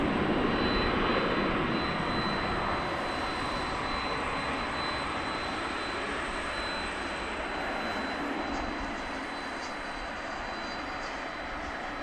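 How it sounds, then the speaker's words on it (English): An American Airlines Airbus A321 jet, inbound from Salt Lake City, lands at DFW Airport after dark, its broadband engine roar steady and fairly distant before easing slightly toward the end, with no talk over it. "We're looking for American flight 1535 coming in from Salt Lake City, and Airbus A321"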